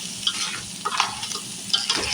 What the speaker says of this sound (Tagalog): Halo-halo lang para lumasa yung bawang